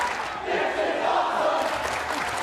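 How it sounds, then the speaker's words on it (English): A wrestling crowd chants 'this is awesome' during a match between Chris Sabin and Petey Williams, a loud, sustained roar of massed voices filling the arena without a break. "The crowd yelling, this is awesome"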